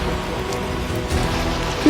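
Steady rain hisses continuously on a surface, loud and close throughout, with no break in the downpour.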